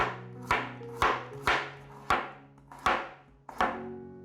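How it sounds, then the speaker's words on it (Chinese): Knife cutting a peeled carrot into strips on a cutting board, seven crisp evenly spaced chops close by, each with a short ringing decay and quiet gaps between. "把红萝卜切丝"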